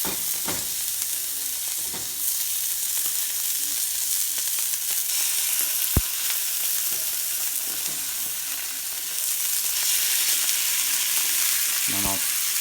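Wild duck breasts browning in a hot pan over high heat, with a loud, continuous close-up sizzle and spitting, a few sharp clicks and scrapes of stirring, and a surge of hiss near the end.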